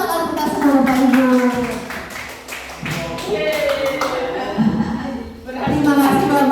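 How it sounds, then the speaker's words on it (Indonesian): Applause from an audience at an Indonesian gathering: a loud crowd of hands claps in rapid, uneven patters under a speaker who keeps talking over it throughout. "Beri tepuk tangan kita semua Bapak Ibu."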